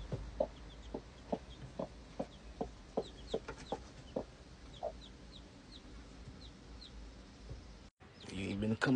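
Backyard coop chickens cluck in short repeated bursts, several birds calling near the microphone, with higher chirps from chicks in the background and a louder rustling burst at the end.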